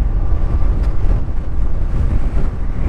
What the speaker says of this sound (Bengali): এই সাইডের বাতাসটা অনেক বেশি ফ্রেশ